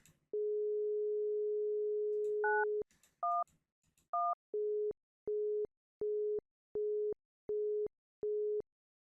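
Telephone tones heard over a loudspeaker in The Mystery of the Druids video game: a long steady dial tone, three short dialed beeps, then a regular pulsing busy signal of evenly spaced tones, with no talking.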